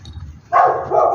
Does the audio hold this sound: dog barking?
yes